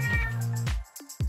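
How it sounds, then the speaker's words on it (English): A pet cat meowing indoors in a room, a few drawn-out tonal meows close by, one long call followed by shorter rising cries, with no talk over them. "excuse the cat sound effects in the back"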